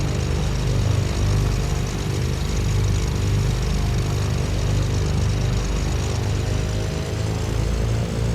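Twin propeller engines of the Black Square Baron in MSFS 2024 heard from outside, a steady droning hum with a low throb at idle, continuous and even throughout, with no voices.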